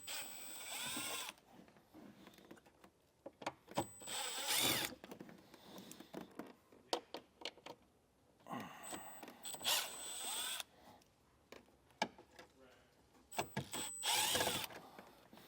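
A power tool drives out T20 star-bit screws from the back of a panel while fitting a Curt Class III trailer hitch on a 2020 BMW X5, with several separate high whirring bursts and clicks between them.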